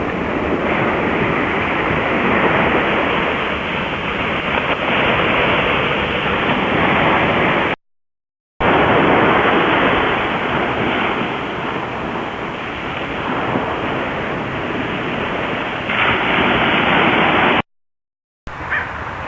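Ocean waves break on the beach at Montecito, a steady, full roar of surf with no voices, briefly cut by two short dropouts.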